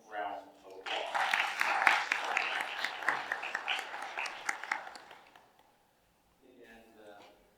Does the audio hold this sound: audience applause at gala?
yes